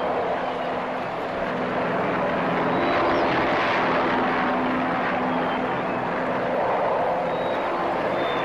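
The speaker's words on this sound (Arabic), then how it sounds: "هذا صوت طائرة." An airplane flying overhead, a broad steady engine drone that swells slightly near the middle and stays loud and continuous throughout.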